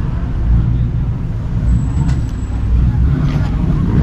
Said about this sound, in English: that was actually the loudest Tacoma I've ever heard